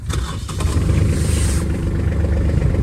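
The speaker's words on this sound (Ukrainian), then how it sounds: "Давайте зараз запустимо двигун. Послухаємо, як він працює." A Kubota KT-24 mini tractor's diesel engine cranks and catches, then settles into a loud, steady, chugging rumble close by.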